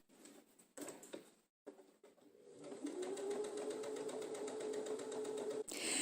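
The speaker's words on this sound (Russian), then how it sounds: "Просто соединяю срезы и прокладываю строчку, контролируя края." A sewing machine runs a seam joining knit sweater and shirt fabric for a quilt, starting with a few short handling noises and then a steady, close, rapid stitching whir that holds for about three seconds before stopping.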